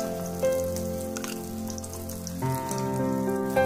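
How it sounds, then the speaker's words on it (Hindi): Pieces of fish fry in hot oil with a steady, close sizzle and crackle, heard under sustained background music with no speech. "मछलियों के सारे पीसेस को अच्छी तरह फ्राई कर लेंगे"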